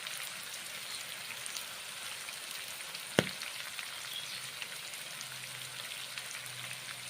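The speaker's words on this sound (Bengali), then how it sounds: "কুমড়ো ভাজা রান্না করে নিচ্ছি ছোলা দিয়ে" Pumpkin pieces frying with chickpeas in a pan give a soft, quiet continuous sizzle with a single sharp knock partway through, and no one speaks.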